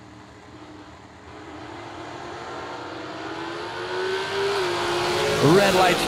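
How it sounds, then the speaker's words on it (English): A winged Miller dragster races down the track as a rising engine roar that builds from a distant drone to a loud, climbing whine, with a commentator talking over it. "That winged Miller dragster on the Motor Mile side of the racetrack."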